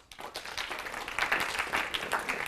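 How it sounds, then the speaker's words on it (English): An audience at a school initiative event applauds, a dense, steady wash of clapping that swells slightly midway and holds without speech. "Please welcome Josh and our students with a big round of applause."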